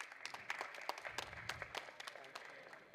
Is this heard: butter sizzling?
no